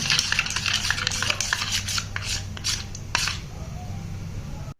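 Spice paste for a chicken biryani marinade being stirred and mixed by hand in a bowl, a steady run of soft scraping and rubbing strokes, close and fairly quiet, with no talking.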